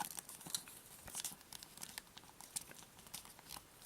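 A folded one-dollar bill creased for origami, giving faint, close crinkles and small papery crackles scattered over a few seconds, with no talking.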